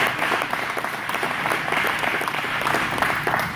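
Applause at a men's ministry prayer breakfast honoring the church's pastor: a room full of people clapping steadily and densely at close range, sustained throughout with no talk over it.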